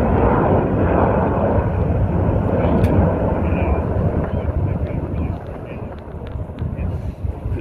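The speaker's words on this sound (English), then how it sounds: "That's a stealth bomber." Stealth bomber flying over the crowd at the Barksdale Air Force Base airshow in Shreveport, Louisiana, a broad loud continuous roar with wind buffeting the microphone, while spectators talk nearby.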